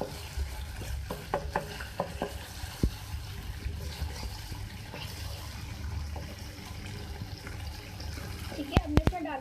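Oil crackles quietly in a pan while fish karahi cooks, and scattered stirring clinks and scrapes sound nearby. Near the end come a few sharper knocks, and a faint voice is heard now and then.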